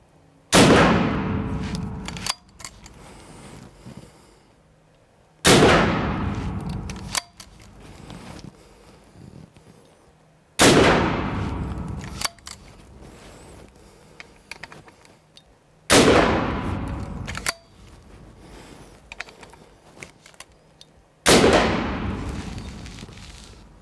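AirForce Texan big bore air rifle firing 405 grain pellets: five loud, sharp reports spaced about five seconds apart, each with a sudden crack and a decaying ring-out, with quiet gaps between.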